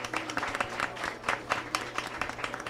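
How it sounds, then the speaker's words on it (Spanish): Moderate applause from an audience at a bioacoustics talk, irregular clapping that stays fairly steady, heard from a little distance. "Un aplauso también para Sandra y Vicky."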